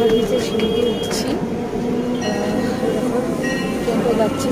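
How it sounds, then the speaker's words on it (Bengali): A train pulls away from a station platform with a steady, loud rolling rumble and faint metallic clinks, and voices murmur in the background throughout. "ট্রেনটা যাচ্ছি, যে ট্রেনে নামলাম"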